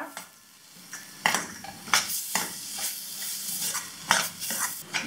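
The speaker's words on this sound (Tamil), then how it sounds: "இதை ஆட் பண்ணி ஒரு 2 நிமிஷம் வந்து இப்படி பரட்டி விடுங்க." Ingredients for a broken-egg curry stirred and sautéed in a pan, a soft sizzle under repeated sharp clinks and scrapes of a metal spoon against the pan, close and uneven in rhythm.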